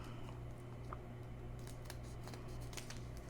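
Scissors cutting close along appliqué fabric near the stitching thread, a run of quick crisp snips that grows busier toward the end over a low steady room hum.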